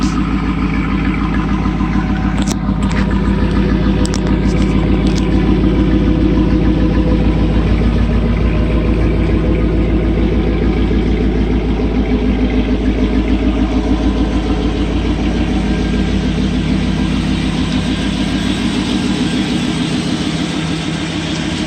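A 1992 Pontiac Firebird Formula driving on the road gives a loud, continuous engine drone with steady road noise, heard close from inside the car without interruption.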